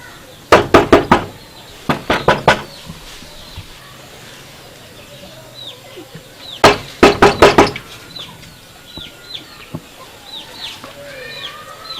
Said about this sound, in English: Maybe I should knock on the door.